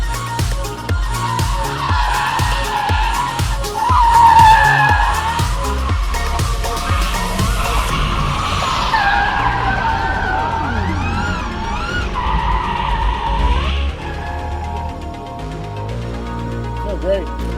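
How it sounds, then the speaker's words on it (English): An electric car drifts around a car park with tires squealing and skidding in long, wavering screeches, loud and close, broken by short pauses, while a person talks over it. "I haven't drifted this thing for a little while"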